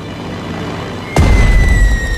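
A bomber air strike hits enemy artillery in the strategy game Strategic Mind Blitzkrieg, a single loud deep boom bursting over a steady low rumble and rolling on briefly.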